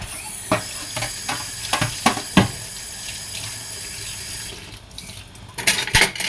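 Running tap water pours steadily over a nonstick wok being washed at a kitchen sink, with a series of clattering knocks and scrubbing sounds, close by and with no talk.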